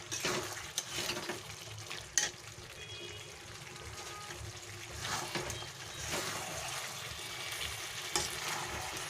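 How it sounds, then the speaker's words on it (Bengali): Hand-mixed jackfruit and chicken curry sautéing in a pan: a steady sizzle and hiss of frying with stirring scrapes and occasional sharp clinks, continuing without any talk. "আমি আর একটু কষিয়ে নেবো"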